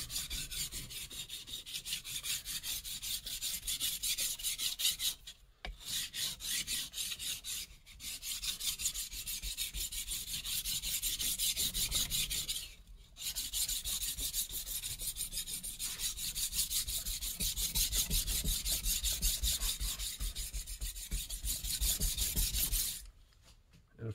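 A knife blade is rubbed flat against a sharpening stone in long, steady gritty strokes, with a few brief pauses between passes; close and fairly quiet, no voices.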